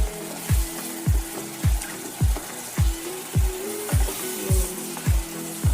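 Masala for chole sizzles and fries in hot oil while being stirred, loud frying hiss broken by regular scraping thumps of the spoon roughly once a second.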